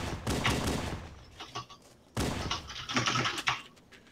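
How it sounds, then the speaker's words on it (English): Pistol fired repeatedly in the video game Halo, a rapid run of sharp shots in two bursts separated by a brief lull, moderately loud and close. "You can spam the pistol."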